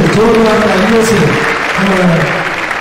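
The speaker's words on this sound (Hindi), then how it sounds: "एक बार सब जोरदार तालियों से" Audience applause at a Jain trust event in Indore, a short burst of clapping that fades under a voice speaking loudly over it.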